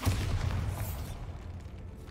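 Bombarda blast spell going off in Hogwarts Legacy, a deep booming burst that opens loud and rolls off into a low rumble over about two seconds, heard alone.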